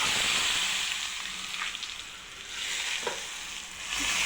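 Curry leaves with pepper, hing, salt and turmeric crackle in hot oil for temple-style pulihora: a bright continuous sizzle that swells and dips, with a few sharp pops and stirring noises, no talking.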